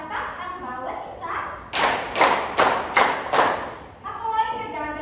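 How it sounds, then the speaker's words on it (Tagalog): A classroom of students gives five loud, evenly spaced group claps, close and sharp. Voices are heard speaking just before and after the claps. "bigyan ng 5 palakpak ang bawat isa"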